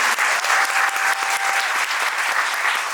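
Enthusiastic audience applause at a musical theatre curtain call for the Korean musical Yeosinnimi Bogo Gyesyeo, dense and loud clapping filling the hall for three seconds with a faint sustained tone running briefly underneath.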